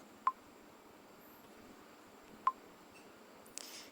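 Two separate sharp tap clicks from an Android phone's touch sound, spaced a couple of seconds apart over quiet hiss, followed near the end by a brief soft rustle.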